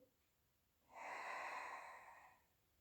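One long, steady breath exhaled during a Pilates floor exercise, close and airy, swelling and then fading over about two seconds in an otherwise quiet room.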